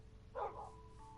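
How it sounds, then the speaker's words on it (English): Single faint dog bark from a Minecraft game, one short yip rising briefly above a low background hum. "looking around trying to find the dog that's barking on the screen"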